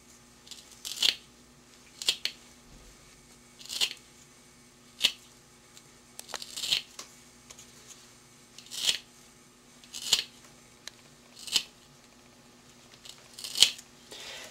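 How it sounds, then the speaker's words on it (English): Scissors snip through a leather sample, cutting it into small sections with about a dozen crisp, separate cuts at irregular intervals, close and quiet with no talk. "I'm going to cut it up into small sections so that it can fit into our grinding vial."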